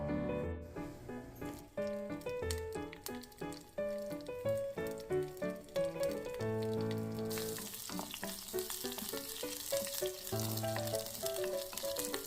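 Shallots, red chili and curry leaves fry steadily in a pan with a continuous close sizzle, mostly buried under loud melodic background music throughout.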